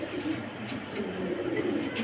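Pigeons cooing at a pigeon farm, low soft repeated coos rolling one after another, fairly faint and nearby, with no talking.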